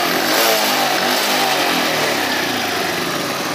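A small 50cc motorcycle engine runs steadily after an oil leak repair, a loud, close, even idle with a buzzy mechanical drone and no voices.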